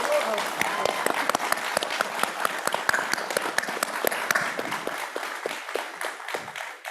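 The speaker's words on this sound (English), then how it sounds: "A round of applause, please." Audience applause closing a panel discussion at the Calgary ProPride 2022 event, dense steady clapping from a crowd that holds strong and then thins out toward the end.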